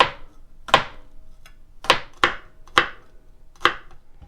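A knife mincing lemongrass for a Thai green curry with shrimp, heard as five or six sharp, close chops on a cutting board, spaced unevenly with brief pauses between them and no talking.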